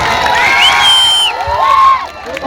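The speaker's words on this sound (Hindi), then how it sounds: "इनके लिए एक जोरदार ताली के साथ स्वागत कीजिए आप लोग।" Crowd at a village football final in Dumariyahi cheering and whooping loudly for two and a half seconds, with shouts rising and falling over a dense, continuous roar.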